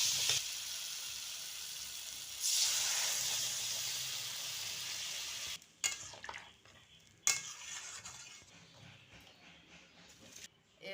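Water poured into a pan of spiced potatoes frying for a vegetable curry sets off a loud, steady sizzle that later drops, followed by quieter bubbling and a few sharp clanks of a utensil against the pan.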